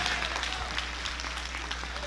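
A church congregation at a Sunday evening service claps their hands in a brief, moderately loud spatter of clapping over a steady low hum.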